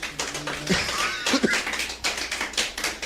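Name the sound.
congregation applauding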